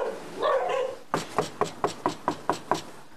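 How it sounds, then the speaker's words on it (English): Three or more dogs bark inside a house, a burst of sharp, evenly spaced barks, about eight in a row, heard from nearby after a brief softer noise. "at least 3 dogs were heard barking inside"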